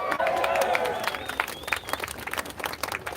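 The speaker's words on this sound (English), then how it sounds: "Round of applause." A town hall crowd in Portsmouth, New Hampshire applauds, a broad wash of clapping with scattered cheers and voices, moderately loud and continuous.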